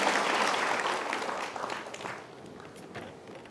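An audience claps applause at a stage event. The clapping is dense at first, then slowly thins and fades.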